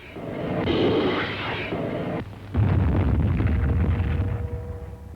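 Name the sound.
rockets exploding on beaches during amphibious assault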